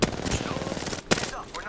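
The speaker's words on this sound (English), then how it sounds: "Taking fire!" Rapid gunfire in Apex Legends arena combat, loud bursts of automatic shots in quick succession with a brief gap before another volley, close and dominant.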